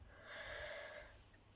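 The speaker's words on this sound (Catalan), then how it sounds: "passa que faig molt de badalls." A person yawns once, a drawn-out breathy yawn with a soft throaty tone that swells and then fades, heard close up with no talking.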